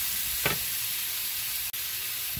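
Onions and spices are sautéed in a pan for an okra kara kuzhambu, giving a brief even sizzle with two short spatula scrapes.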